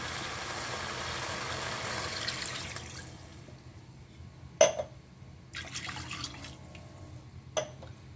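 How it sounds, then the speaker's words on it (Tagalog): Water poured into a pot of browned pork ribs for sinigang, a continuous liquid pour that fades out, followed by a few clanks of cookware. "Pwede na po natin lagyan ng tubig."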